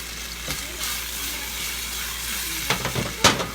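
Olives, capers and onions sizzle gently in a pan, a soft steady fry with a few clinks and scrapes of a utensil stirring near the end.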